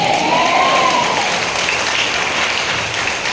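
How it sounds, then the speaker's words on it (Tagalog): A church congregation at a worship service in Pulilan, Bulacan breaks into loud, sustained applause, a dense steady clatter of many hands, with a brief rising tone briefly audible near the start. "Grabe po yung palakpak nyo sa Panginoon."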